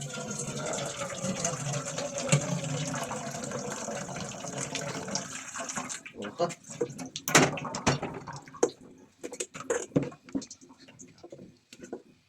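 Hot water is poured over milkfish for kinilaw, a continuous splashing stream for several seconds that then breaks into scattered drips and trickles, close and moderately loud.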